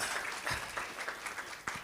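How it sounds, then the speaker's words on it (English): Audience applause at a marketing workshop and expo in Mahikeng, a fairly faint, continuous patter of many hands clapping with a few sharper claps standing out. "Round of applause."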